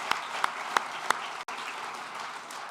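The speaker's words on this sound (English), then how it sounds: "Another round of applause" Applause from a conference audience at the AGC 2026 session, a steady wash of clapping with a few sharp individual claps early on, a brief dropout midway, then continuing at moderate level.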